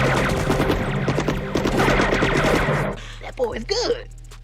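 Rapid machine-gun fusillade in a scene from the 1990 Captain America film, loud and dense for about three seconds, then breaking off as a voice speaks over a low rumble.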